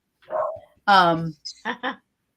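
A dog barking close by in a short series of bursts, one long loud bark followed by several quick yips.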